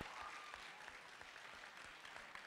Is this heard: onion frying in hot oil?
no